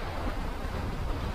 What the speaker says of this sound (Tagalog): Sarap ng alon.